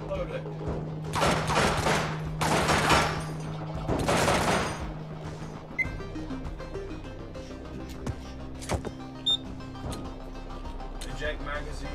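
Gunfire in the gun-handling game Receiver: a few loud, sharp shots early on, followed by scattered mechanical clicks and clacks of the weapon while someone shouts excitedly.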